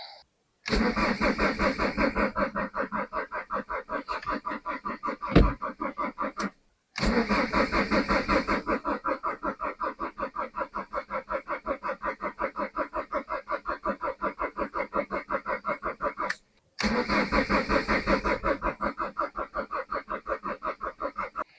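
A car engine cranks over repeatedly without catching after a failed jump start, three long bursts of rapid, rhythmic starter chugging separated by brief silences, loud and close.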